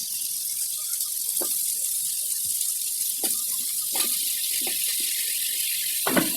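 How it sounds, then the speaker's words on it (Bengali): Chicken meat goes into a pot over a wood-fired stove with potatoes and spices already frying, making a steady loud sizzle with a few soft clunks and splashes as the meat lands. "একটু কষিয়ে নিয়ে এবার আমি মাংসটা ঢেলে দিচ্ছি।"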